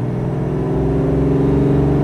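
A 1959 Mercedes 300 SL Roadster idles steadily outdoors on a cold day of about 2 °C, its engine giving a continuous low, even rumble with a smooth harmonic hum, near and fairly loud, with no talk over it.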